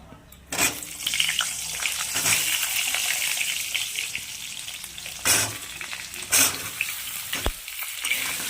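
Potatoes frying in plenty of oil with cumin in a pan make a continuous loud sizzle close by, broken by a few sharp bursts of stirring and scraping, with no talking.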